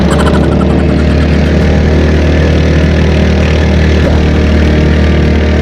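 Loud, steady drone of a motorcycle engine struggling uphill, running hard, a constant low rumble with vibration, close by and without speech.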